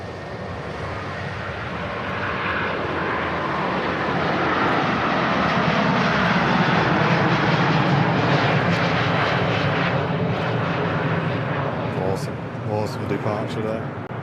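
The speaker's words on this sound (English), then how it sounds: "Virgin Atlantic A330 departing Manchester Airport" A Virgin Atlantic Airbus A330 departs Manchester Airport, its jet engines a loud, broad roar that swells and holds steady for many seconds before slowly easing.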